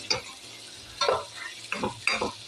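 Squid being stirred in a frying pan, with a few short bursts of scraping and sizzling at irregular intervals over a low steady hum. No talking.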